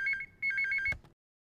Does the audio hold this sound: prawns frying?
no